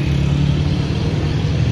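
Steady street traffic near the Imam Reza shrine in Mashhad, Iran: a continuous, close engine rumble of passing cars and motorbikes with no clear breaks and no talking.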